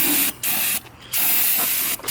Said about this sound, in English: parts cleaner.